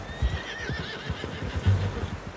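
A horse in the video game Red Dead Redemption 2 whinnies with a wavering high call over soft hoof thuds and low ambient rumble, moderately close.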